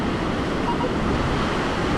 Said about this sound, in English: Here comes the wave